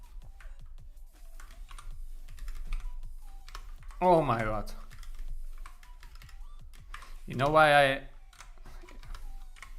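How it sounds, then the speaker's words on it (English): Keys clatter steadily on a split computer keyboard, a soft continuous tapping that runs throughout, interrupted twice by brief spoken exclamations from a nearby person. "haven't used the split keyboard in a while"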